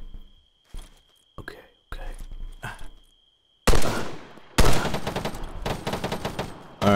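Heavy automatic gunfire in the military shooter ARMA 3: a few faint, sparse shots over near-silence, then loud, dense bursts of rapid fire that keep going to the end.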